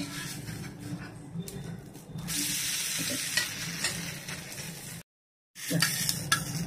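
An oats dosa, made with oats and rice flour, sizzles steadily on a hot pan, with scraping and a brief clatter as it is flipped, then a short silence before the loud frying resumes, close up.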